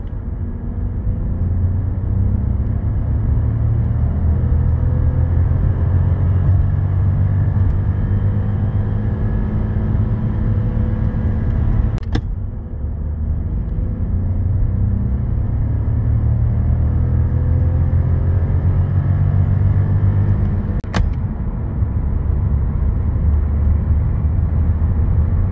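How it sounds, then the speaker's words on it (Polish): A 1.0 TSI three-cylinder turbo Skoda Scala engine drones steadily from inside the cabin while accelerating, a low rumbling hum with gear changes marked by brief clicks, pitch gradually rising. "kultura pracy tego silnika jest bardzo dobra jak na trzy cylindry"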